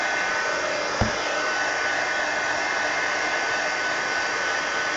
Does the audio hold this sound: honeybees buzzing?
no